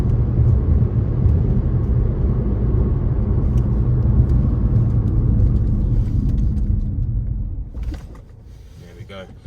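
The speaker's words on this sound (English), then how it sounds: "In terms of the brakes on this car, so while we're at 60 miles an hour, let's give those a try as well." A 2017 Vauxhall Insignia SRi estate with a 2.0 litre diesel and six-speed manual braking hard from 60 mph, a loud steady road and engine rumble that fades as the car slows, ending in quieter cabin noise with a few small knocks.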